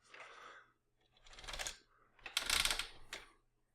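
Transformers Titans Return Trypticon toy head ratchets through its tilt in several short bursts of dry plastic clicks, close and quiet with pauses between.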